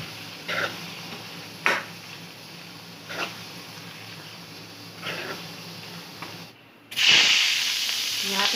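Dahi chicken bhuna frying in a pan, giving a steady low sizzle with periodic hissing bursts as the pieces are stirred, then a louder burst of spitting near the end.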